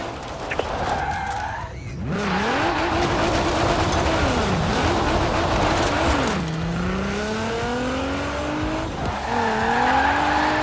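A car drifts in the Forza Horizon 4 video game, its tires squealing in long wavering screeches over a roaring, revving engine, with several bends in pitch as the slide continues.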